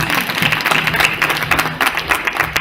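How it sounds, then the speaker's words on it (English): A crowd at a movie premiere in Nakuru claps steadily in a dense, loud wash of applause that holds evenly throughout, with faint voices underneath. "Can we clap for them, please?"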